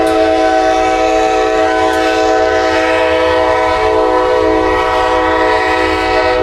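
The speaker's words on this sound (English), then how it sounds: "Y'all love the audio of a train." A train rolls past close by and loud, a steady dense rumble with bright sustained tones, likely horn, running unbroken through the whole stretch with no talk.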